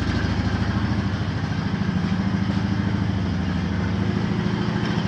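A 2014 Honda Foreman 4x4 TRX500 FM1 ATV idles nearby with a steady, even, low engine rumble and a fast putter, unchanging throughout with no voices.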